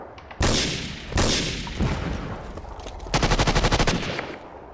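Special ops gunfire in the war strategy game SP:WaW, loud booming bursts followed by a rapid rhythmic machine-gun volley near the end.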